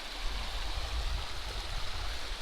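A river stream flowing steadily, a constant close rushing and gurgling of water with no pauses, alone without voices.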